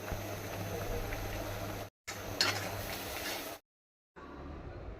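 Pointed gourd mash frying with onion, garlic, black cumin, turmeric and salt in a hot pan, giving a steady close sizzle that cuts out briefly twice.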